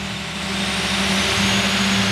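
The engine of a Bandit 4680 wood chipper revs up early in the morning, giving a loud, close, steady mechanical roar that rises slightly in pitch, with no talking.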